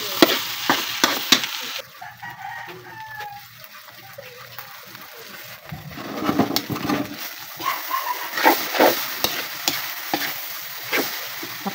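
Santol fruit sautéed and stirred in a pan, with intermittent scraping and stirring clatter over a soft sizzle, louder bursts of utensil contact toward the end.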